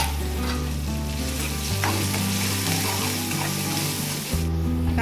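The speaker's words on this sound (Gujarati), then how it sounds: "ત્યારબાદ કાંદા એડ કરશું. બરાબર મિક્સ કરી લઈશું." Chopped onions fry in a hot pan with oil as they are stirred, giving a steady, close sizzle that crackles throughout with no voices.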